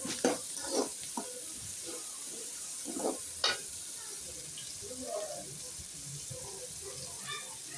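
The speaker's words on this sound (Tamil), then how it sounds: "மீத வெங்காயத்தை வதக்குவோம்" Onions sautéing in a pan for mutton curry, a soft steady sizzle under intermittent scraping and stirring strokes, with faint background voices or clatter now and then.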